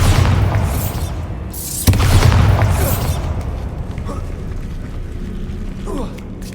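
Explosive Bombarda spell from Hogwarts Legacy: a sharp boom near two seconds bursting out of busy game sound, with mechanical rumbling and smaller pops around it and a voice talking over part of it.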